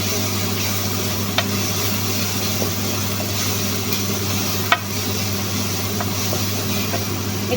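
Onion frying with garlic, ginger and a pinch of salt in a pan, a soft steady sizzle with occasional faint clinks of a utensil, no talking.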